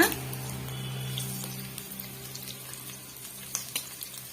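Onions sizzle in hot oil with cumin, black pepper and fenugreek for a village-style mochai kulambu, a steady close crackle with a few faint clinks of stirring.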